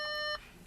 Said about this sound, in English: Turns that beep off.